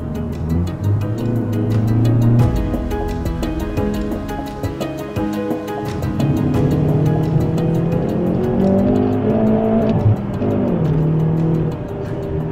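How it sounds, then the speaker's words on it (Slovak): Hyundai i30 N performance hatchback driven hard in N mode, engine loud and close with rising and falling revs through gear changes, steady throughout with no talking. "stláčam N-ko, volím režim N a idem vám trošku ukázať, čo toto auto znamená"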